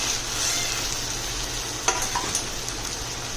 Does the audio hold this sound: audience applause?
no